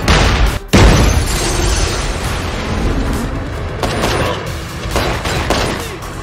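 Warship cannon fire in a movie scene: a loud boom near the start, then a sustained roar of blasts and rumbling explosion noise that carries on for several seconds.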